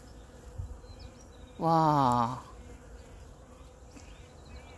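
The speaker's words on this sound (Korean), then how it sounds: "희양목 나무에 꽃이 피면은 꿀벌들이 꽃 속에 완전 파묻혀 있는데" Honeybees swarm through flowering boxwood shrubs on a farm in early spring, making a faint, steady buzz throughout. A person briefly exclaims over it partway through.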